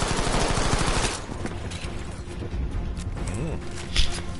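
Rapid automatic weapon fire in the video game Battlefield 5 on the Twisted Steel map, loud bursts of shots up close with a player's voice talking over parts of it.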